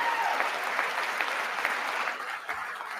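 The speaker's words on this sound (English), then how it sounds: "we'll catch up live as they're clapping here" Steady applause from a large audience at a presidential State of the Union address, sustained and slightly distant, with a faint voice briefly underneath.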